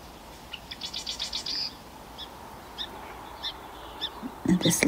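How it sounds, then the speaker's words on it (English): Sparrow chip notes in spring in Vancouver, BC, short sharp calls repeated at irregular intervals, a quick cluster early then scattered single chips, fairly close, over a soft outdoor background. "this little sparrow here isn't singing, he's just making little chipping noises"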